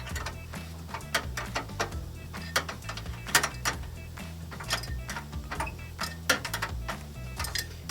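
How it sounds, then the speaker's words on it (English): A wrench ratchets in quick repeated clicking bursts while a Fusion unit is installed on a 1972 Comet, close and fairly quiet, with short pauses between runs of clicks and no talking. "Quarter turn, flip the wrench"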